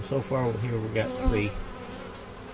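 Honey bees buzz around an open hive, a steady close drone under someone speaking briefly, fading slightly toward the end.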